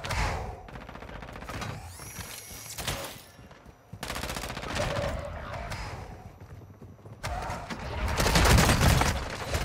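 Rapid bursts of FSS Hurricane submachine gun fire in Warzone 2, loud and dense, with repeated volleys across the whole stretch and a talking voice mixed in.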